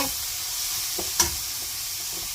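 Garlic stir-fries over medium heat in a pan for a shishito pepper and anchovy dish, a continuous close sizzle with a few soft stirring knocks and one sharper clack, no talking.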